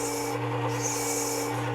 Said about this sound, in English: I found this crate block that comes with the Worksharp is just fine for cleaning these CBN wheels as well.